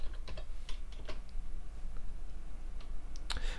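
Fingers type a search on a computer keyboard, a quick scatter of light, close key clicks with short pauses between bursts over a low hum.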